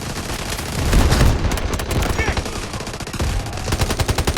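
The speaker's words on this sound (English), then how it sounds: "Requesting artillery barrage! Roger that. Artillery barrage incoming." An artillery barrage in the Delta Force Mobile video game, with loud rapid bursts of gunfire and heavy booms rolling continuously, some shots in tight rhythmic clusters, up close with a faint voice beneath.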